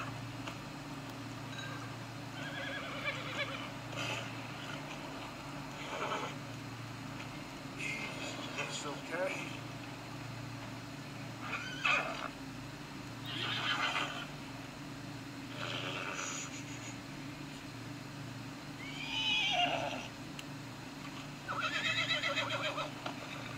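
A horse in Red Dead Redemption 2 gives several whinnies and snorts spread across the stretch, moderately close, over a steady low game background hum.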